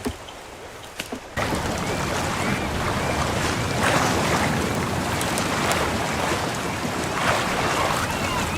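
In the survival game Sons of the Forest, a boat rides on ocean water. A steady wash of waves and wind rushes loudly after a short quiet start, with a few splashy surges and no speech.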